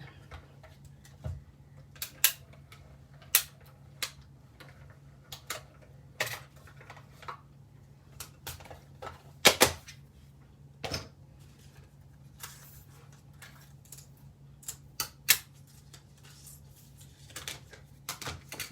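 A die-cutting machine cuts card pieces in a craft room, producing quiet irregular ticks and clicks of its rollers and plates at close range, with a low steady hum underneath.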